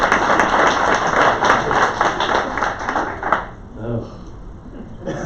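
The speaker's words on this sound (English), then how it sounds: "Give him a round of applause for being here." A meeting audience at a sales and marketing gathering claps together in dense, loud applause for about three seconds. It then fades out as a voice begins speaking.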